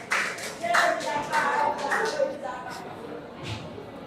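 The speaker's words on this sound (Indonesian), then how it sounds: "Silakan kelompok 6 beri tepuk tangan untuk presentasi" A class group of students claps after a presentation in a school classroom, a few short bursts of clapping mixed with voices talking nearby.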